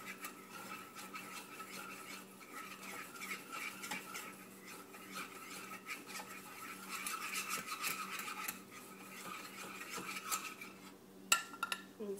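Coconut-flavored liquid stevia mixture with stevia leaves is stirred in a pot, giving a steady soft rubbing and scraping that continues throughout with occasional clinks of the utensil.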